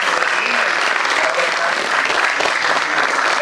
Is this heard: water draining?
no